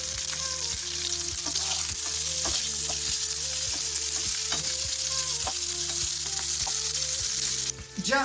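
Fatty guanciale frying in a pan with no added oil, a loud, steady close-up sizzle with regular scraping stirs from a utensil throughout and no talking.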